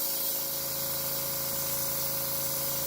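Walmart spray paint can held down in one long continuous spray, a steady broadband hiss with a faint constant tone running through it for the full stretch, no voices over it.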